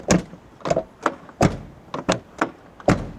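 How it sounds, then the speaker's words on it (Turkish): Doors on a 1989 Mercedes E300 open and shut repeatedly: about eight solid, sharp thunks and latch clacks in an uneven rhythm, close and fairly loud, with no talking. "Kapıların açılması kapanması falan çok güzel."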